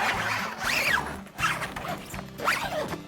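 Zipper sliders dragged along the canvas of a Reimo pop-up camper roof, three quick rasping zips in a row, close and clear, alone with no talking.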